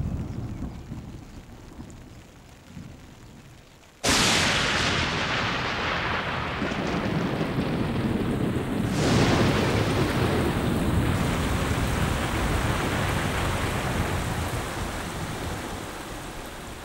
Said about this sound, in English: Summer makes a dramatic entrance with its green carpet and thunderstorms.